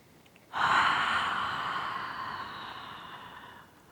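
One deep, slow inhalation during a gentle qigong breathing exercise, starting suddenly and gradually fading over a few seconds, close and fairly quiet with no talking.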